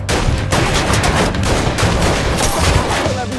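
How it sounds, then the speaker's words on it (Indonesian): Gunfire in a shootout with pistols erupts as dense, loud, continuous bursts of overlapping shots, close and harsh, with no talk. "Saat itu juga James langsung mengancam mereka dengan menodongkan pistol hingga baku tembak pun terjadi."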